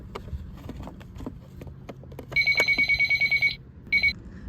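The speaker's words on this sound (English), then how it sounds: "Let me test out the phone." Toy telephone from a children's play set ringing: a rapid electronic trill lasting over a second, a short pause, then a brief second burst, preceded by small plastic clicks and taps.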